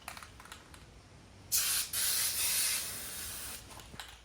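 Aerosol spray paint hisses onto rock sliders of a 5th gen 4Runner indoors, one close, loud burst of about a second and a half broken by a brief gap, set against faint background clicks.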